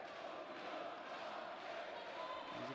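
Macedonian supporters roar in an indoor arena during a women's handball match, a faint, distant, steady crowd rumble with chanting swells and a commentator's voice over it.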